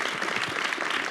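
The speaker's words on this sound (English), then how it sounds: "Give yourself a round of applause" A short burst of applause from a small audience, dense overlapping claps at a steady level for about a second.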